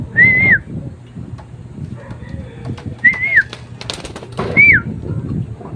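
A pet pigeon at its coop gives three short, clear whistled calls, each a brief rising-falling note, spaced a few seconds apart over low background rustle and ambient noise.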